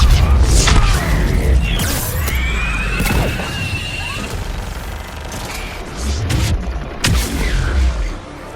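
Missile strikes in Mass Effect 3 combat, several heavy booming blasts landing one after another amid gunfire and battlefield noise, loud and close.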